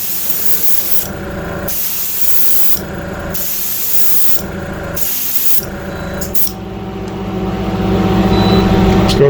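Airbrush spraying paint onto a model, a continuous close hiss broken into several short bursts with brief pauses between them, ending in a longer, slightly louder spray.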